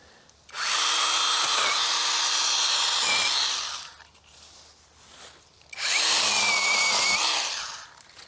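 Chainsaw with a sharp new chain cutting into a small tree, running loud and close in two long bursts of about three seconds each, with a short idle lull between them.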